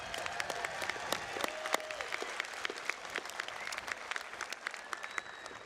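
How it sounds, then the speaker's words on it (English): A large audience at the 2016 MSJC graduation ceremony applauds the graduating class, a steady wash of clapping hands with sharp individual claps popping out, sustained and fairly even throughout. "join me in once again applauding the accomplishments of the class of"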